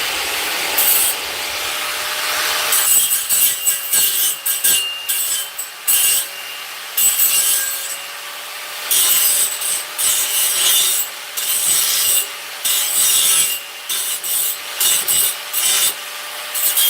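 A grinder works on metal in repeated loud bursts of harsh, gritty abrasion over a steady whining tone, starting and stopping in uneven stretches, close and with no talk.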